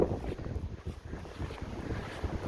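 Blizzard wind roaring continuously around a snowy yard with a generator path, with gusty low rumble and heavy microphone buffeting throughout, no voices.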